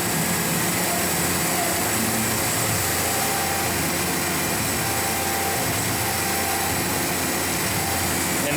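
A CNC machine engraving the inside of a knife's pocket clip runs continuously, a dense steady whine and hum with no pauses, loud and close.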